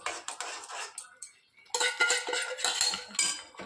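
Semolina and peanuts are stirred in a pan for upma, with a metal spoon scraping and clinking against the pan in quick bursts that pause briefly midway.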